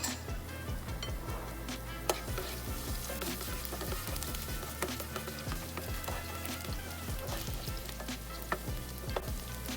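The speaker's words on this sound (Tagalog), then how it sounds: "Igigisa muna po natin tong ating pork, ground pork" Ground pork sautéing in a pan, a steady close sizzle and fry with scattered small ticks and scrapes from stirring throughout.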